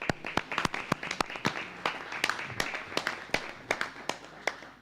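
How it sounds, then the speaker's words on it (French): A municipal council meeting breaks into sparse, distinct claps for newly elected deputy mayors; the separate hand claps are heard moderately close and fairly even in rhythm. "Et donc on peut les applaudir."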